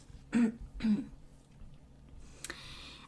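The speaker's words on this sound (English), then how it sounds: "probably you're gonna hear me sneezing and coughing" Two short, sharp coughs close together near the start, followed by quiet room noise and a faint click.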